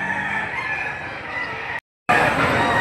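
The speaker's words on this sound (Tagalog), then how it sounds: "napakaraming mga manok dito ng dala ang araw na ito" Roosters crow loudly and close at a chicken market, one long sustained call, then a brief cut to silence before another strong crow.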